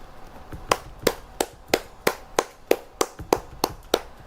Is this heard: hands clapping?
yes